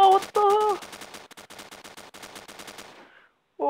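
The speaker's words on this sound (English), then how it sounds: "Trying to shoot these guys." Rapid automatic gunfire from the Standoff video game, a steady run of close, sharp shots for about three seconds, with a brief voice at the start and end.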